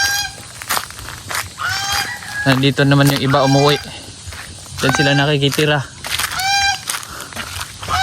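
Farm geese honk in loud, nasal bursts alongside rooster crowing and chicken clucks, close and repeated, while someone talks over the birds.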